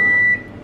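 A household microwave oven with a broken first display digit gives a single loud, sustained electronic beep that cuts off abruptly, leaving quiet room tone.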